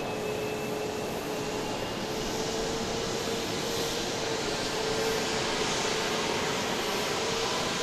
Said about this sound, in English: So we've got this plane and another Southwest plane lining up now to head out